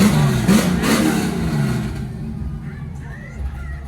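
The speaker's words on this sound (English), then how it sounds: "We got a loud Jeep over there." A loud Jeep at an outdoor car show revs its engine in a couple of throaty bursts, loud and fairly close, then fades away as a voice speaks over the tail end.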